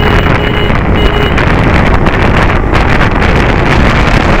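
Heavy wind rush and a steady engine roar from a 2025 KTM Adventure 390 motorcycle riding at speed, loud and constant throughout with no talking.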